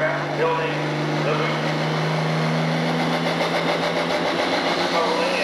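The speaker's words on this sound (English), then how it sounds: "Getting a single turbocharger fired up" An International 1066 pulling tractor with a single-turbo engine runs at a 1997 tractor pull in Salem, Illinois. Its deep, steady engine roar carries through the whole stretch at even loudness.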